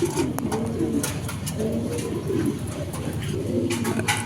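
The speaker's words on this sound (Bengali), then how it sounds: "একদম সীসা কালারের একটা অ্যান্ডালোজিয়ান মুন্ডিয়ান মাদি কবুতর" Soft, low cooing from an Andalusian Mondain hen pigeon in repeated rolling phrases, close by, over a steady background hum with a few faint clicks.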